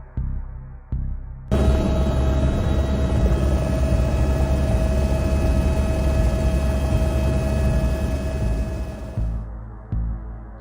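A helicopter flies near the top of a mountain peak, its steady rotor and engine drone coming in loud and close, holding for about eight seconds before cutting off abruptly, with no talking.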